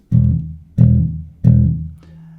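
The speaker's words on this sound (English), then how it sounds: "so it starts with 3 low E's" Three low plucked guitar notes on the low E, evenly spaced and ringing briefly, followed by a faint string touch.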